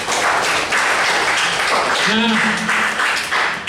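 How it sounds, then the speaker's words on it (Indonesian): A class of seventh-grade students claps together in a classroom, a steady burst of applause with a voice briefly speaking over it. "Tepuk tangan untuk semuanya."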